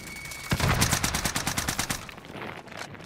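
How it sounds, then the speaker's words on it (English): Sustained automatic gunfire in a video game firefight, a rapid run of about a dozen sharp shots lasting over a second, fairly close and loud, then tailing off into quieter ambience. "Sustained fire here."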